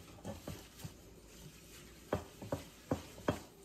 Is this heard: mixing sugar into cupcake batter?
yes